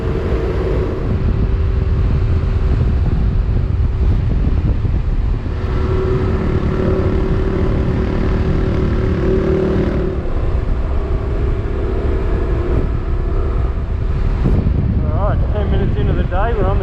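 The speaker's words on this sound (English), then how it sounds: "Certainly a windy day." Strong gusting wind roars continuously across the microphone during a motorcycle ride on a gravel road in New South Wales, Australia, on a blustery day, with engine rumble beneath and a person talking partway through.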